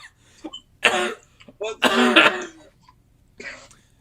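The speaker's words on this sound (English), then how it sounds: "I'm coughing" A person coughs and clears their throat in several rough bursts, two strong ones in the middle and a lighter one near the end, with short quiet gaps between.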